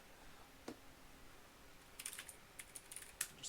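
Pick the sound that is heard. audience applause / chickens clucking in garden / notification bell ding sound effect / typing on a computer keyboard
typing on a computer keyboard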